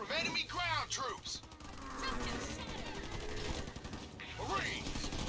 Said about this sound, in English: Marines under fire from enemy ground troops!